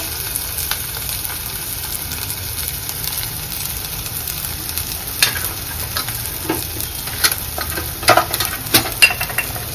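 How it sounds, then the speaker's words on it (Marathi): Cashew curry sautéing in oil with garam masala and red chili powder, a continuous sizzle with scraping stirs that grow louder and more frequent toward the end. "आणि परत एकदा व्यवस्थित परतून घेऊया"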